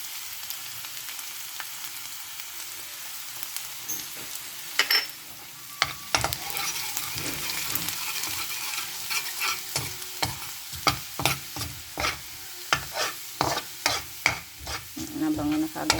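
Garlic sizzles in hot oil in a pan for a Bicol express, a bright continuous fry with irregular stirring scrapes and clacks that become louder and more frequent in the second half; close, with no talking.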